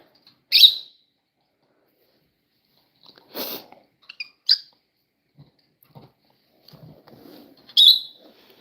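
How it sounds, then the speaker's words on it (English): Pet lovebirds kept indoors giving a few short, sharp chirps spaced apart, with faint small rustles and clicks between them in an otherwise quiet room. "I've always had this type of bird, the lovebirds."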